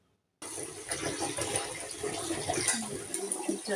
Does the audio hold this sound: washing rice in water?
yes